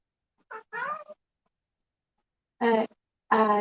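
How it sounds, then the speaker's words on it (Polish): A house cat meows indoors in a quiet room, with two short meows close together followed by two more after a pause, each faint and clear. "I hope you cannot hear my cat in the background."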